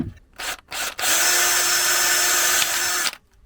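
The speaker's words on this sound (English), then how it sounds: "So we've got to drill a hole through one of these to put the heat sensor in" A power drill whirs in two short bursts, then runs steadily for about two seconds, close and loud, boring a hole for a heat sensor during a van boiler install.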